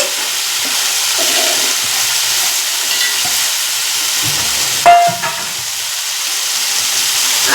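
Garlic frying in a pan, with ginger-garlic paste being prepared, gives a steady, soft hiss of sizzling oil throughout, broken by a brief clatter about midway.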